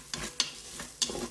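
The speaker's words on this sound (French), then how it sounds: "je continue à remuer" Rice grains and half a red onion stirred in a Cookeo multicooker, a few scraping strokes with a light sizzle underneath, close and fairly quiet, no voices.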